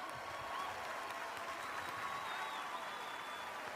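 Steady, full audience applause at a large Australia Day outdoor concert, a continuous wash of many hands clapping from a distance, with crowd murmur and a faint whistle over it.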